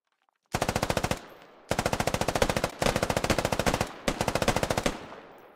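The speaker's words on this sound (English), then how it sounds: "I hear them shooting and I can see the bullets right there" Automatic gunfire in a tactical military video game, four long rapid bursts of machine-gun fire, each lasting about a second, separated by short pauses, loud and close with no talking.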